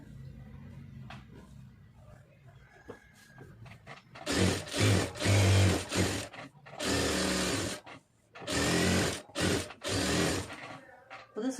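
Sewing machine stitching blouse lining fabric in repeated bursts of whirring runs separated by short pauses, close and moderately loud, after a quiet stretch with faint background sounds.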